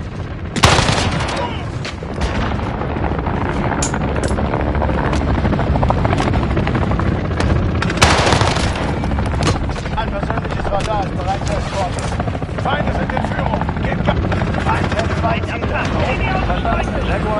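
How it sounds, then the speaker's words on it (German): An enemy helicopter gunner in Modern Warfare, with a loud, steady rotor drone filling the whole stretch while bursts of gunfire crackle over it and voices speak in the background. "Feindlicher Helikopterschütze im Anflug"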